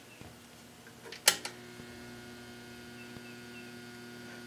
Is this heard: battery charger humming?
yes